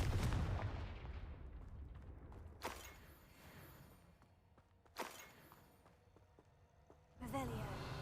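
Confringo blasting spell explosions in Hogwarts Legacy, a game scene with a heavy booming blast at the start followed by two sharper distant bursts and a final impact, over low rumbling ambience.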